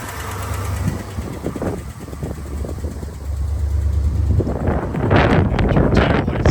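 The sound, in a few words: 1988 Jeep Grand Wagoneer 360 engine running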